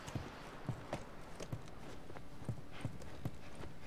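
Horse hooves clip-clop in a steady walking rhythm, moderately close, over a soft background hiss, in the video game The Last of Us.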